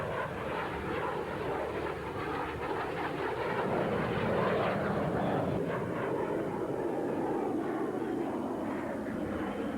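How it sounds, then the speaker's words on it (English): A Cessna A-37 Dragonfly powered by two General Electric turbojets flies over the Australian International Airshow at Avalon, producing a steady, broad jet roar throughout while an announcer speaks over it. "Two General Electric turbojets makes this Cessna Thoroughbred look a real picture in the Avalon sky."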